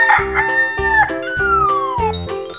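A cartoon chicken crows loudly in a long, bright cock-a-doodle-doo, backed by bouncy, chiming music.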